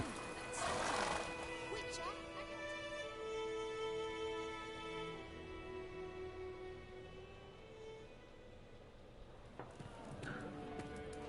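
Roach the horse whinnies in Witcher 3: a quick neigh up front, then a drawn-out tonal game ambience with hoof-like thuds, and a second burst near the end.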